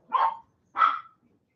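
A dog barks twice outdoors, two short, fairly loud, separate woofs with a brief gap and quiet all around.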